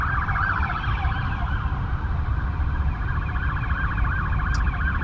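A police siren wails steadily through traffic noise in Washington, DC, its rising and falling tones sustained and loud over the full stretch, with a steady low rumble of road and engine underneath.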